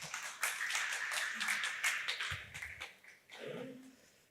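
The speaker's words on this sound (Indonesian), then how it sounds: "Kita tepuk tangan yuk untuk Naaman." Church congregation clapping along during an online sermon, a short, fairly faint patter of hands that fades out, followed by a low voice and a brief tap near the end.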